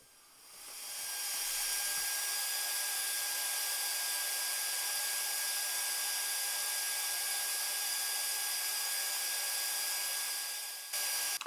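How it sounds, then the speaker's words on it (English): A 180 mesh fibre wheel runs steadily against a steel ball peen hammer during polishing, giving a continuous high hiss and whir that starts up after a couple of seconds and holds loud and even before cutting off near the end. "This is a 180 mesh fibre type of wheel."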